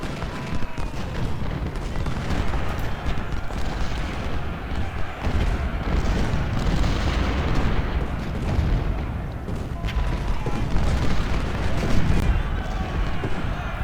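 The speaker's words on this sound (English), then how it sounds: "Our Parrott guns are still shooting at the artillery." Cannon fire from Civil War Parrott guns and howitzers at the Battle of Malvern Hill in Ultimate General: Civil War, a dense, continuous barrage of overlapping booms and crackling shots, loud and sustained throughout.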